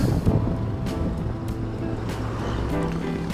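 Steady rushing water from a river flowing far below a narrow mountain road between Butwal and Palpa, a continuous broadband roar mixed with wind buffeting the microphone, no speech.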